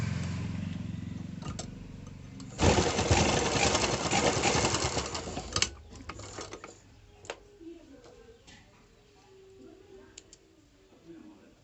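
A sewing machine stitching a strip of leftover cloth into a ribbon runs in a loud, steady whirring burst for a few seconds, then gives way to softer clicks and handling noises while someone talks.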